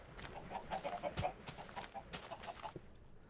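Chickens in Minecraft cluck in a scattered series of short clucks over a few seconds, quiet and close, with faint background noise and no clear talking.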